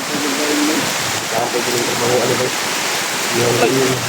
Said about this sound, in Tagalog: Ang lakas ng ulan mga tol.